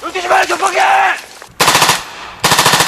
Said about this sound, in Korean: 희미한 불빛과 총소리뿐 어디서 총알이 날아오는지도 분간하기 어렵다